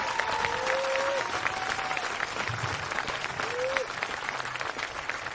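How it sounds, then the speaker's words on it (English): Sustained applause from a large audience at a high school graduation ceremony honoring the seniors, dense and continuous throughout with a few cheering whistles and crowd noise mixed in. "can we just give the seniors this year a huge round of applause?"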